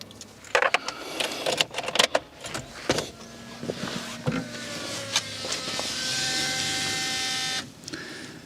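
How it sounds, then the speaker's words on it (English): Electric fuel pump on a BMW E46 3 Series running noisily after replacement, a steady high whine rising under clicks and rattles before cutting off near the end. "Why does that pump still sound pretty noisy?"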